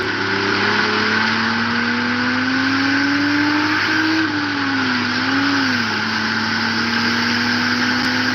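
Turbocharged Honda Odyssey engine revving: a loud, steady drone with the pitch rising slowly, wavering, then settling, all with no talk.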